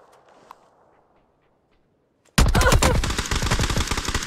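Gunfire in PUBG: near silence with a faint tap, then a sudden loud burst of rapid automatic shots that keeps rattling densely to the end.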